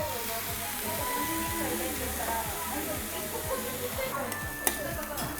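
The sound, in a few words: yakisoba sauce added to frying noodles on griddle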